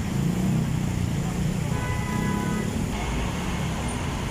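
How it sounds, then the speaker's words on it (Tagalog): MRT train passing along EDSA in Metro Manila, Philippines, a steady loud rumble with faint wheel tones amid dense road traffic noise, no clear talk. "Yan po yung MRT naman."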